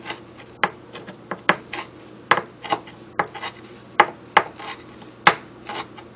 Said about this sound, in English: A whole lot of fresh parsley. I'm going to go ahead and chop that up.